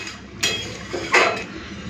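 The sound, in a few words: pouring cooked pointed gourd and shrimp curry out of the pan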